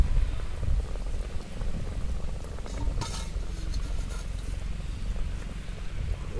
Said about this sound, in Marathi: उकळी फुटलेली छान.